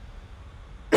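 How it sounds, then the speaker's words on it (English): A single short cough bursts out right at the end after a second of quiet indoor room tone, close and fairly loud. "Got a cough again."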